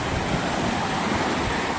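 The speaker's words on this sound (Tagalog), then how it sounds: "Ito talaga dagat ito, hindi ito lawa." A continuous roar of sea surf mixed with heavy wind buffeting the microphone, loud and close with no voices, in Cuenca, Batangas.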